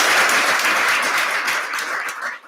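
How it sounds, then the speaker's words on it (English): An audience claps for a panel of speakers at a talk on Utah's rental market, a sustained, dense burst of applause at close, even loudness that fades at the end. "let's give our panelists a round of applause"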